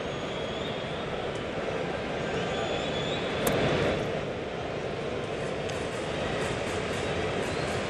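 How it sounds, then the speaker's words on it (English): A train runs on the elevated tracks above the Crawford boxes at a Houston Astros ballpark during a game with the New York Yankees, a steady rumble under crowd noise and talk. "Train on the tracks above the Crawford boxes."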